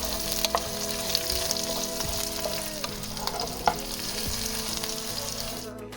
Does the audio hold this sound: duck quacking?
no